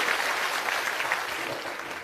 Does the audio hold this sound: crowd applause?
yes